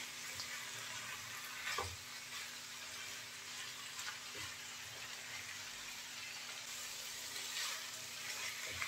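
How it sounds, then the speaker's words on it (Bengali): Leafy greens and potatoes are stir-fried for a small-fish chorchori. A soft continuous sizzle runs under scattered stirring knocks and light watery splashes, with no talking. "শাক দিয়ে আমি 1 মিনিটের মতো নেড়ে চেড়ে কষিয়ে নিয়েছি"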